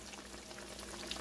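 Battered crappie fillets fry in hot oil, a quiet, steady close sizzle and bubbling hiss with a faint low hum beneath and no voices.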